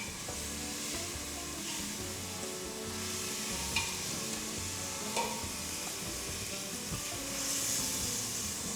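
Pork sears in a hot pan with a continuous close sizzle and crackle, with occasional stirring or turning noises and no talking.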